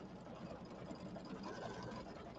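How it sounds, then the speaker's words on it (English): An embroidery machine stitching a fall settee pillow hums and chatters steadily in a fast, even rhythm. It is faint and continuous, with no voices. "So this is the part that takes a little bit. I'm sorry that it's going to take a few minutes, but that way we can chit-chat while it's sewing."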